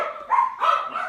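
Dogs barking at home, with the household's five dogs starting up together. Three short bursts of barks and yips sound fairly close, one after another, and no one talks over them.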